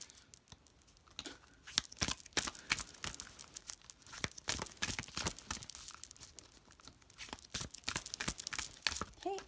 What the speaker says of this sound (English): I'll go ahead and give it a shuffle.